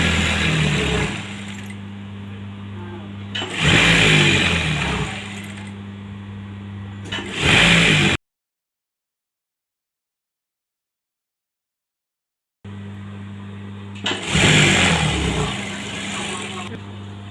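A sewing machine stitches a saree pallu in short motorized runs, each a steady whirring hum lasting a second or two, separated by pauses and a long stretch of silence in the middle.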